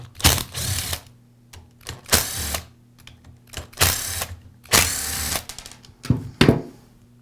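A power driver backs out the four screws holding the rear cap on a DeWALT drill housing, with short bursts of whirring and ratcheting separated by brief pauses, close up and with no talk.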